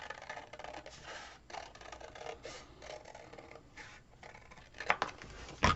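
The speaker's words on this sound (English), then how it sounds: "I'm going to cut just a little bit on the inside of that" Scissors snip and scrape through paper while cutting a circle for a flip card, producing soft, close crunching strokes with a couple of sharper clicks toward the end, quiet and without talk.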